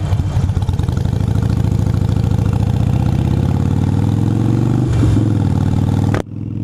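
A Harley-Davidson Sportster Iron 883 idles up close with a deep, loping rumble and steady pulsing beat, swelling briefly near the end before cutting off abruptly.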